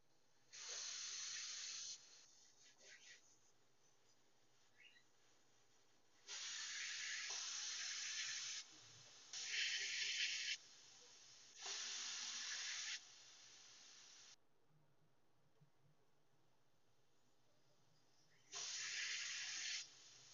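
A pressure cooker of mutton on a gas stove lets out repeated long, steady hissing steam bursts separated by quieter gaps, fairly faint and heard alone without talk.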